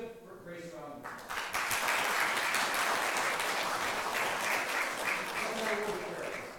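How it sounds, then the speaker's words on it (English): A church congregation applauds in honour of Grace, the clapping swelling in after a brief moment and carrying on as a full, even round of hand claps. "let's just give Grace a round of applause"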